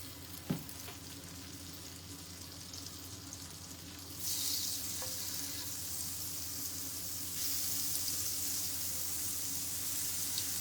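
Butter melts in a frying pan with a soft steady sizzle that grows louder in two steps, quiet and close with no voices.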